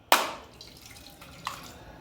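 Coconut water drips from broken coconuts: one sharp splash at the start, then a second smaller drip, close and quiet with no talking.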